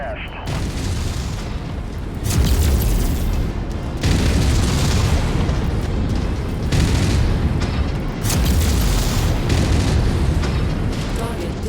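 Continuous heavy explosions roll and boom one after another as a base is destroyed in a video game, loud and dense throughout, with a voice speaking over the blasts.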